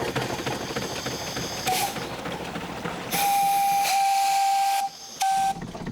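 A steamboat's steam whistle sounds a brief toot, then one long shrill blast and a short final one, over a steady hissing, rumbling engine.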